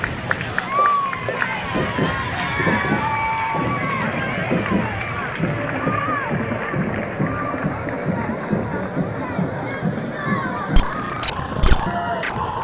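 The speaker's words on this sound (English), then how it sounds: "getting some excitement from the crowd, cheering them on" A street crowd at the 2001 Autumn Leaf Festival parade in Clarion, Pennsylvania, with steady broad crowd noise and scattered cheering mixed with nearby voices, rising briefly near the end.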